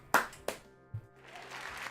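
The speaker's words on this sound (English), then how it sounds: "Applause!" Two sharp claps or taps ring out close together near the start of a canned applause effect fired off by a button during a Magic: The Gathering game session, followed by a low thump and then a faint wash of crowd-like hiss.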